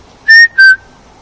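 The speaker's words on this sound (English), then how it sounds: "Can you whistle for me?" A person whistles two short, clear high notes in quick succession, the second sliding slightly downward, loud and close against near silence.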